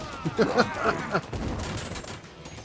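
Guns'N'Stories Bulletproof, an Oculus Quest VR western shooter, fills the scene with rapid gunfire bursts under background chatter, then a louder volley of shots.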